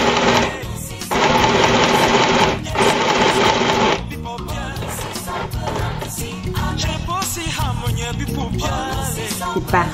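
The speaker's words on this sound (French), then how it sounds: "Donc là, je vais devoir repasser la couture." A domestic sewing machine runs in steady bursts as it restitches a straight seam on fabric, a dense mechanical whir that stops and restarts, then gives way to softer handling noises and talk.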